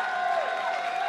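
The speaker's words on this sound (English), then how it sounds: "Great applause here for Gambit Gaming." Crowd applauding Gambit Gaming at an esports event, a dense, steady roar of clapping from a large arena audience, with a faint tonal hum running beneath it.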